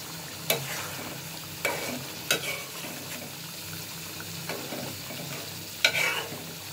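Chopped garlic fries in a pigeon curry, a soft continuous sizzle under a few separate, crisp spoon scrapes against the pan, spaced a second or more apart, with no voices.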